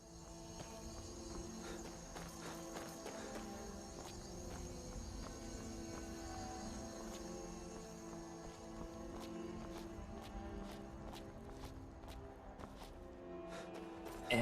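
Horse hooves clopping in a steady walking rhythm as a horse climbs in the video game Skyrim, quiet and continuous over faint ambient game sound and insect-like chirps.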